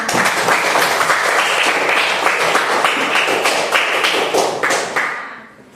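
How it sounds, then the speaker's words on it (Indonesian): A classroom of students claps steadily for several seconds, loud and dense, then the applause tapers off and stops. "Tepuk tangan untuk kita semua."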